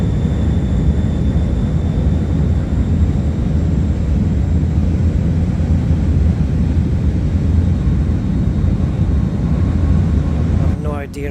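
A simulated Fokker F27-500 turboprop airliner drones with a loud, steady engine roar, deep rumble and faint tonal whine, constant throughout with a brief change at the very end and no pauses.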